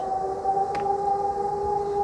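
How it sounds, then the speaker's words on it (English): A steady wailing emergency warning siren tone holds throughout during an alarm system exercise in Poland, loud and continuous, with a faint brief crackle partway through and no voices. "You can hear lots of sirens."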